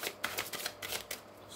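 Oracle cards being shuffled during a daily tarot-style reading, a rapid run of crisp riffling and flapping bursts close up, with no voices.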